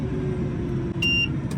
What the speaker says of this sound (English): we had our low voltage cutoff alarm trigger there for a second